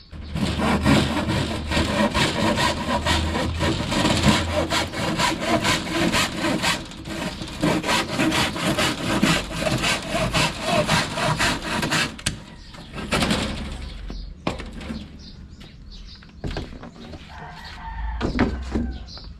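Steady back-and-forth strokes of a hand saw cutting a 2 by 2 length of wood, loud and close for most of the clip, then a few scattered knocks and scrapes, with a rooster crowing in the background.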